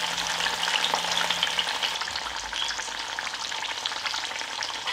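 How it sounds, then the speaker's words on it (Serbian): Meat browning in hot oil, turned to crisp on all sides, gives off a constant bright sizzle with small pops and stirring noises, close and unbroken, without talk. "I pržit ću ga ovako sa svih strana da dobije lepu koricu."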